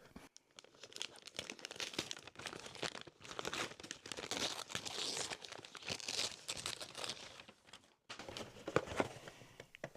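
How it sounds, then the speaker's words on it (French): Continuous crinkling and tearing of wrapping paper at close range as a gift is unwrapped, busy and uneven rustles with a brief pause near the end, no talking. "je ne vais pas parler pendant le bruit du papier"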